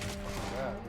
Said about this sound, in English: Somebody's shooting at me, but I don't know where he is.